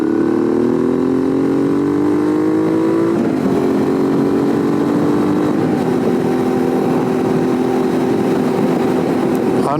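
Suzuki V-Strom 650 motorcycle fitted with a Delkevic exhaust pulling steadily through gears on the road, a continuous droning engine note with shifts, recorded from the rider's position over wind.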